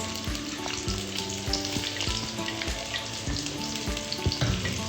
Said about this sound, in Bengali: শুকনো মরিচগুলো আমি একটু ভেজে নিব তারপর দিয়ে দিব আমি পেঁয়াজটা